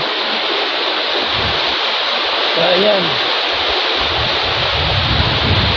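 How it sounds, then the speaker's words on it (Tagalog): A river flows steadily and loudly as a broad wash of water noise across the whole clip, with someone speaking briefly over it. "maririnig mo lang dito yung ano uh, tunog ng tubig sa ilog"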